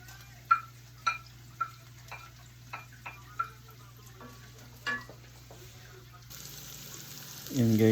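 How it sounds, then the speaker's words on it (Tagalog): Garlic sautéing in olive oil in a pan for chicken adobo: a run of sharp, evenly spaced ticks, then a hissing sizzle that swells loudly near the end. "gisa-gisa ta og lamas"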